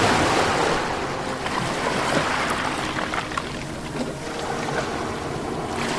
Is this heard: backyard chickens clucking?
no